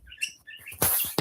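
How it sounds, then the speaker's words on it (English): A pet bird making a chuckling call, a quick series of close chirps and tweets followed by a brief noisy flutter, heard alone without talk. "If you hear that, that's my bird chuckling."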